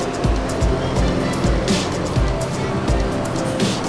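A Mercedes-Benz 1626 intercity bus from Pariaman, operated by LBJ Transport, rumbling nearby with deep engine noise, repeated low thumps and bursts of road hiss.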